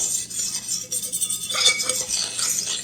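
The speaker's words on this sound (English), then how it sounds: "Now we're going to mix in 1 cup of sugar into this. Stir that around real good." A utensil stirs sugar into an egg custard pie mixture in a bowl, giving close scraping and clinking that grows busier in the second half.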